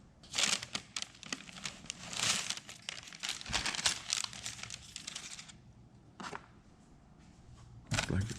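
Wax paper crinkles and crackles as it is peeled away from fresh plaster on a Woodland Scenics Grand Valley model railroad layout tunnel, in close, irregular bursts of rustling with brief pauses and a final crisp rip.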